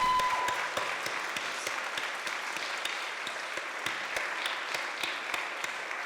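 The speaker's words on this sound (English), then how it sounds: "Can we have a huge round of applause?" An audience at a youth voice sharing event gives a sustained round of applause, dense, even clapping with sharper individual claps standing out, continuing steadily throughout with no talk over it.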